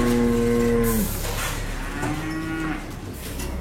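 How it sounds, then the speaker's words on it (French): Dairy cows on a farm moo loudly and close by, one long drawn-out low call followed by a second softer moo, over steady background noise. "Stéphane de Kuyper a des vaches laitières, plusieurs types de cultures"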